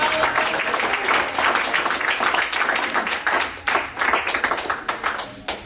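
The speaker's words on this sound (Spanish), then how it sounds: "Denle un aplauso al Señor con todo." A church congregation claps enthusiastically during a sermon, close, loud applause with distinct individual hand claps pulsing in an uneven rhythm through the whole stretch.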